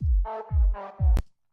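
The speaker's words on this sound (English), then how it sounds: "the band pass only lets a narrow band in the middle pass through," Three synth notes through a band pass filter with a narrow, nasal midrange tone, each over a low thudding pulse, ending with a short sharp click.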